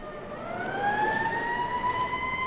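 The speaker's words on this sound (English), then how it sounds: "Look, Peter, those police cars are headed towards" A police car siren wails in rising, sliding tones, fairly distant, over a low background hum. It forms part of a 1974 Spider-Man audio drama record.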